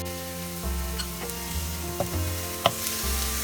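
Grated garlic and ginger sizzle steadily in a hot pan for soya keema paratha, a constant frying hiss broken by a few sharp clinks of a spoon stirring.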